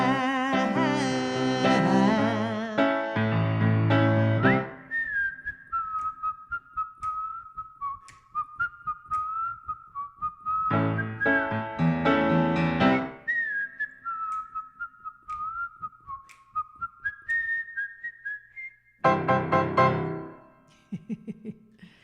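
Someone whistles a tune in long sustained, sliding notes, with piano chords sounding in bursts between passages, all close and clear in a quiet room.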